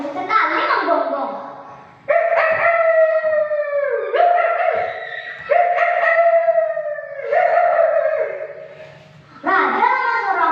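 A voice imitates a dog howling during a storytelling contest, giving a run of about six loud, drawn-out wailing howls with falling pitch, separated by brief pauses.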